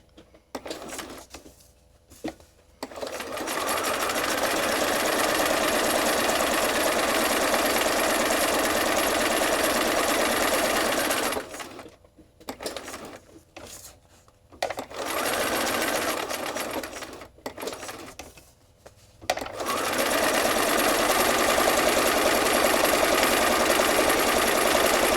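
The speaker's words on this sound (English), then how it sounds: "take a break because I'm going to be stitching for a few minutes here" A sewing machine stitches monoprinted, paint-stiffened fabric bookmarks, a loud, steady mechanical whir in long runs broken by short pauses and stop-start bursts.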